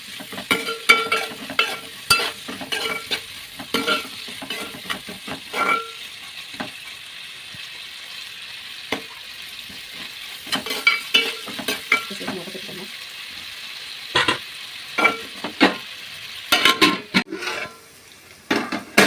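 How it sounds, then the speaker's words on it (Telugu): Onions fry with dry prawns and salt for a brinjal and dry prawn curry, crackling and sizzling steadily in the pan while a spoon stirs and scrapes in repeated bursts, close and fairly loud, with no one talking. "ఆనియన్స్ కూడా తొందరగా ఫ్రై అవుతాయి."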